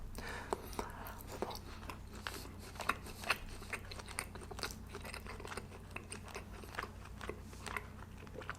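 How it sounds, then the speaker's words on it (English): Someone chews mouthfuls of kebab meat with sauce from a Turkish food platter. The wet chewing and crunchy bites are close and repeat irregularly over a low, steady hum. "it's basically like I'm eating a kebab"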